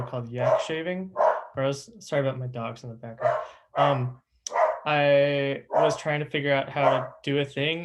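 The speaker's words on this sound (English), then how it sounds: "Sorry about my dogs in the background." Dogs bark repeatedly in the background of a home while someone talks steadily over them, the yips and barks mixing with his voice.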